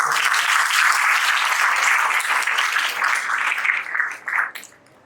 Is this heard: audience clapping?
yes